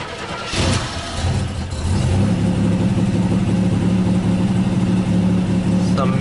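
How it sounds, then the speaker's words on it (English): A 1986 Buick Grand National's newly rebuilt engine cranks, catches and starts on first startup, then revs up to about 1800 RPM into a loud, steady rumble with some misfire, carrying on to the end. "So let's start the engine"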